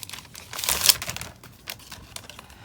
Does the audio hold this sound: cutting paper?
yes